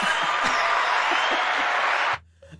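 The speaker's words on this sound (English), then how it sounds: "Oh, it's applause!" A crowd applauds in a steady, even wash of clapping that stops abruptly just before the end, leaving quiet room tone.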